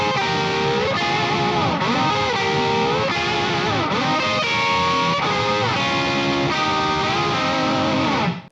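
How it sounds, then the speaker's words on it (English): Electric guitar run through a Boss PS6 Harmonist pitch shifter with no distortion, playing a steady stream of harmonized notes with gliding pitch bends, loud and close, with no talking. "My go-to harmonizer is the Boss PS6 Harmonist. This is what that sounds like before a distortion pedal."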